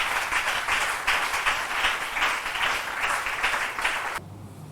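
A church congregation applauding together in sustained, dense clapping with rhythmic surges, fairly loud and filling the room, cutting off abruptly near the end.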